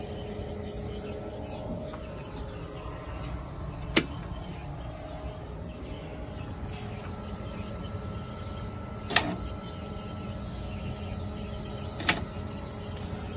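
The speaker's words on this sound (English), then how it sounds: "That clicking sound you're hearing, that's the VersaFlo, which is right there." A Jandy VersaFlo valve on a pool heater gives three sparse, sharp clicks several seconds apart over a steady mechanical hum, close and fairly quiet.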